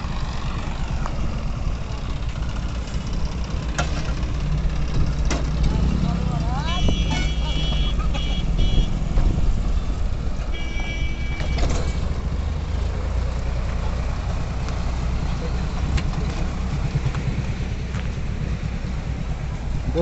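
A water tanker drives down a road on a bypass during a rain shortage, a steady loud engine drone with road noise and occasional clanks, with people talking over it.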